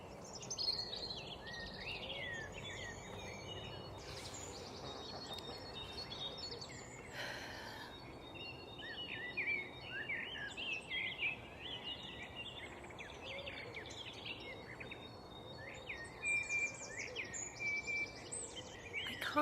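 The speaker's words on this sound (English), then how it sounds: "I can't get over how loud the birdsong is this morning." Spring morning birdsong outdoors, with many small chirps and warbling calls scattered through the upper range, steady and moderately loud over a constant low ambient hiss.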